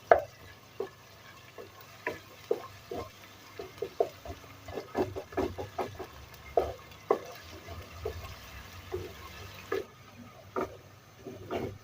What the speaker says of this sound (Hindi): ऐड कर लेंगे अदरक और लहसुन का पेस्ट और इसे भी इसके अंदर अच्छी तरह हल कर लेंगे।